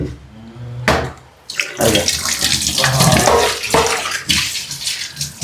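Dishes being scrubbed and rinsed in a kitchen, loud running water splashing steadily with brief pauses and clattering, close by and continuous without talk.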